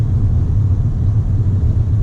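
A car engine hums steadily in fourth gear on an Oxford road, giving a continuous low rumble with no talking over it.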